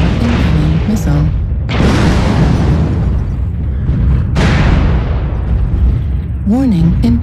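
Missiles exploding in a combat video game: two heavy booms with long rumbling decays, each striking suddenly and fading over a second or two, followed by a short wavering electronic warning tone.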